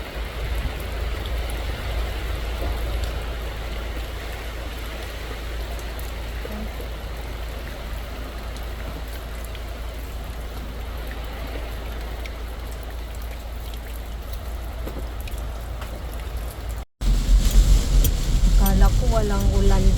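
Heavy rain pours steadily during a strong typhoon over a small hut, a dense continuous wash of water with low wind rumble; it briefly cuts out and returns louder, with voices talking over it near the end.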